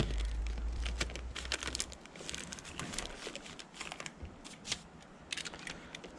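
Typar house wrap is cut around a tiny-house window opening, giving soft, quiet crinkling and scraping with scattered crisp snips and rustles close to the microphone.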